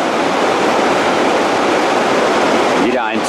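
Latefossen waterfall in Odda, Norway, roars as a loud, steady broadband rush of falling water and spray, continuous throughout, with a brief swishing disturbance near the end.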